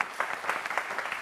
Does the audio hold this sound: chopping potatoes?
no